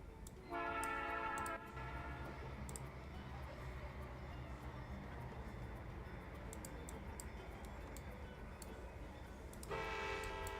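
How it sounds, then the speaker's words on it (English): A locomotive in the Trainz railway simulator sounds a loud, sustained horn blast, then a steady rail rumble as it begins reversing. A second horn blast comes near the end, with faint ticking throughout. "So we can have this train start reversing."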